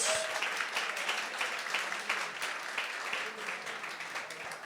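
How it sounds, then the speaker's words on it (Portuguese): A church congregation applauds during a Sunday service in response to the pastor, steady dense clapping filling the room throughout, with a brief voice near the start. "Aplauda ao Senhor Jesus."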